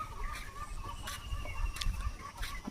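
Domestic geese near a village playing field give faint, distant honking calls in short bursts over quiet outdoor background noise.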